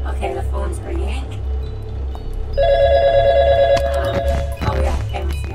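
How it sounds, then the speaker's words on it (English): A phone rings with a bright electronic trill partway through, over a low steady rumble and someone talking, in the horror video game Those Nights at Fredbear's: New Destiny. "Okay, the phone's ringing."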